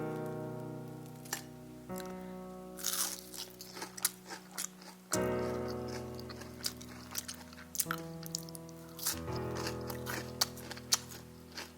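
Crisp bites into a fried Thai banana with a crunchy outer coating and tender inside, a series of close crunches spread through the clip with chewing between them and a soft background hum.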